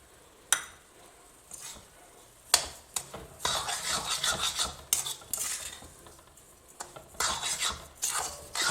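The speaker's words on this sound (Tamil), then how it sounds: "சர்க்கரை கரையிற வரைக்கும் நல்லா கிண்டுங்க" Sugar being stirred into watermelon seed kesari in a pan, producing bursts of scraping and metallic clinks from a spoon against the pan, with faint sizzling between strokes.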